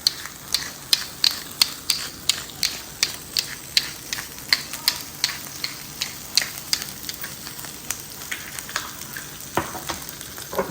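Swordfish sizzling in a hot pan, a steady crackling fry with a regular run of sharp spits and pops, close and fairly loud, with no voices.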